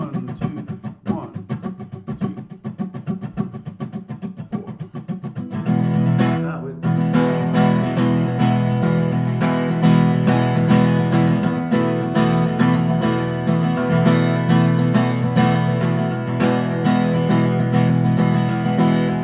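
Guitar strumming groove with the strum accent shifted onto the eighth note after beat one: first a lighter, choppy rhythm, then a fuller, louder strummed pattern that rings on steadily, close and alone.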